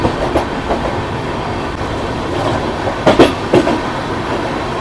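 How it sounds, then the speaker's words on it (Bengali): The 12839 Chennai Mail express runs at speed between Howrah and Visakhapatnam. A steady, loud rail rumble carries throughout, with a few sharper clacking bursts of the wheels partway through. "ট্রেন কিন্তু বেশ ভালোই স্পিড নিয়েছে"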